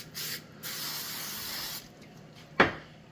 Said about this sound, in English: I'm going to spray my parchment paper with a little butter spray.